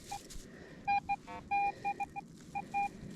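Metal detector signal tones on a beach at Lewes, Delaware: a string of short and long electronic beeps in an irregular, Morse-code-like rhythm, loud and clear over soft background hiss.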